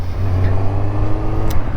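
A Kawasaki Z1000 motorcycle engine runs loud and close, a steady deep throb with a slight rise in revs and a brief sharp burst near the end, with no talking over it.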